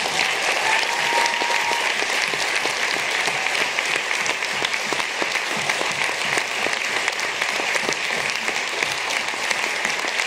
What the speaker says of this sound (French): je vous demande un tonnerre d'applaudissements pour l'équipe